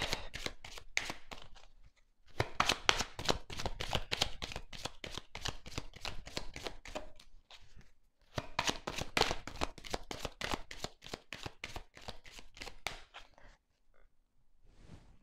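A deck of tarot cards being shuffled and cut, giving rapid runs of crisp riffling flicks in two long bursts with short pauses between, close and fairly quiet, with no talking.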